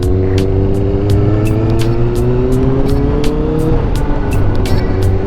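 A restored Kawasaki ZX6R motorcycle engine runs close by, holding a loud, steady high-pitched note that rises slightly and eases back, with faint sharp clicks ticking through it.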